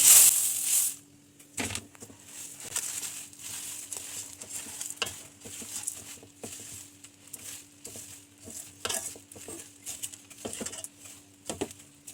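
Coconut and puffed rice mixture stirred in a pan for Lakshmi Puja sweets, a steady dry scraping and rustling patter that rises and falls in short strokes, with a loud burst at the start and faint bird calls in the background.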